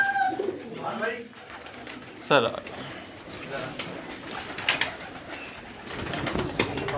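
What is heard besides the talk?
pigeons cooing on a rooftop loft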